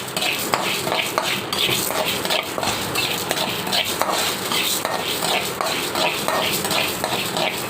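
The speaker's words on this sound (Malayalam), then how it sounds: "കൈ എടുക്കാതെ ഇളക്കിക്കൊണ്ടിരിക്കണം" Rice and urad dal are stirred continuously while dry-roasting in a pan, giving repeated scraping and clinking of a spoon against metal in an uneven rhythm close up, with a busy kitchen background.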